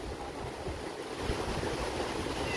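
Steady wash of surf rolling in at Dandi Beach, Navsari, a continuous rushing roar with wind buffeting the microphone, no voices.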